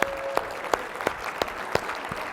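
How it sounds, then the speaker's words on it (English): An audience claps at a sales team meeting, brief sparse applause with a few distinct sharp claps in a regular rhythm, fairly quiet and short. "Let's give Garrett a huge round of applause"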